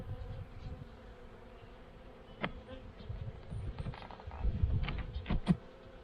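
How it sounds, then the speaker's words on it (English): Honey bees flying around a hive in early spring give a faint, low buzzing hum, with a few brief louder passes near the end over quiet background. "I don't want these bees flying around like this too much."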